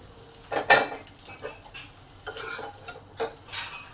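Kolkata street-style egg chow mein stirred in a pan with fried egg and onion: a steady run of metal spatula scrapes and clinks against the pan over a low sizzle, with one sharper clatter near the start.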